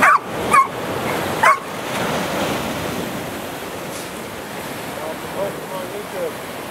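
A dog on Santa Cruz Beach, with a few sharp barks early on, then steady surf and wind noise filling the rest.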